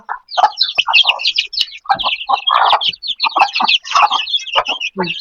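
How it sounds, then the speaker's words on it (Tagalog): Chickens cluck busily up close while being fed, overlapping with high chirping from chicks in a continuous, lively chatter. "dito natin pakakainin yung mga sisiw"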